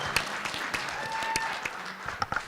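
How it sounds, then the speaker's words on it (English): Applause from a town hall audience on addiction, a steady crackle of many hands with a few sharper nearby claps and faint voices mixed in, filling the whole short stretch. "Let's have a nice football round of applause for Rebecca King"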